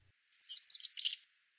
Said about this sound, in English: There are several types of gargles produced by individual chickadees that help to form a repertoire.